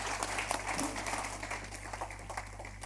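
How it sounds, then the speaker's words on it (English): A crowd applauds steadily for a few seconds, dense clapping from many hands with a low hum underneath. "let's have a round of applause for Westkrow"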